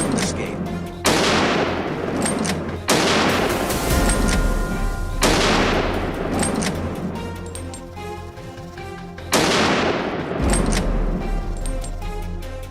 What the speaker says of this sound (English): I held my breath and pulled the trigger.